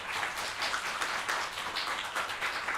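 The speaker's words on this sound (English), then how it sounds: "Round of applause for the production team" An audience at a queer fiction reading event claps for the production team, a dense, even patter of hands lasting a few seconds at a modest level.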